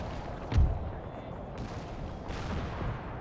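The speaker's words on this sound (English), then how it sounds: "I forgot to tell my cannons to not fire" Cannon artillery fire in the Empire Total War video game: a deep boom, then two more distant rumbling shots spaced about a second apart over a constant battle-noise bed.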